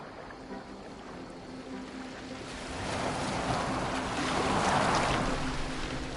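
A boat moving on water in the video game Assassin's Creed Valhalla, a steady wash of waves and wind that swells gradually louder, with no talking.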